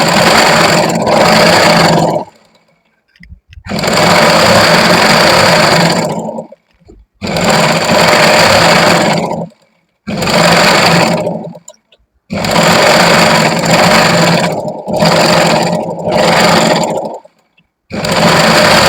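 A sewing machine stitches a lined kurti in loud, fast bursts of buzzing whir, stopping and starting about six times with short silent pauses between runs, close up and with no voices.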